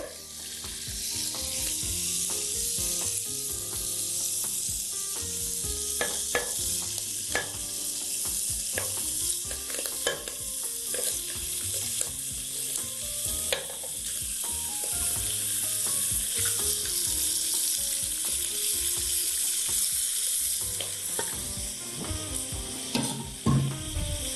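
Lamb pieces frying in a pot for an Algerian shorba, a loud continuous sizzle with frequent stirring scrapes and clatters close up, no talking.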